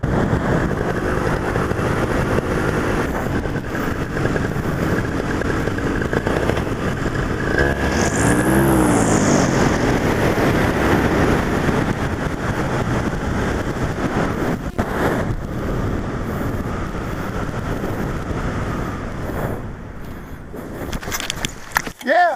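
An ultralight aircraft engine idles while the plane climbs in flight, a continuous, rough drone mixed with heavy rushing wind across the microphone, steady and loud for the whole stretch, with someone speaking over it.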